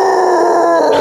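A person's voice imitates a basset hound's howl: a loud, sustained, strained wail with a slightly wavering pitch that holds for about a second, close to the microphone.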